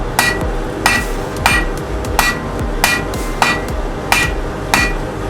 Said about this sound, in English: Using this new hammer I just made.